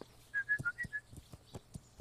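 Horse hooves clop in the Kingdom Come: Deliverance video game, a steady sequence of close, distinct hoofbeats, and a short series of whistled tones plays near the start.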